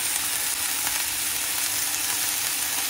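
Celery, carrots and chicken sizzle and crackle in a hot pan as they are stir fried, a dense, even frying hiss that stays loud and steady from start to finish.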